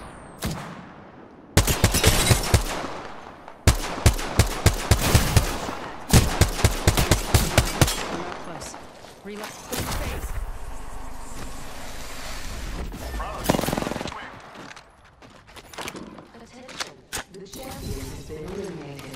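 Shooter video game gunfire erupts in rapid, loud bursts of shots for several seconds, then gives way to scattered impacts and game effects while voices talk.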